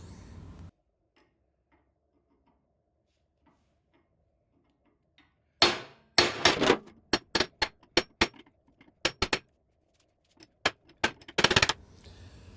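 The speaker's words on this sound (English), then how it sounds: "I'm hitting it with the hammer." Silence for several seconds, then a burst of sharp metallic hammer strikes on a steel Ford F350 track bar, irregular and close, some in quick clusters, with brief pauses between groups of blows.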